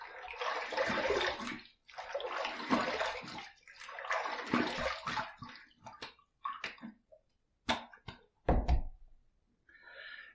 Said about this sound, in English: Let's rinse.